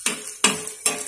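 Chopped potatoes are stirred as they fry in oil: three evenly spaced scraping strokes of a utensil over a soft background sizzle, close and clear, with no talking.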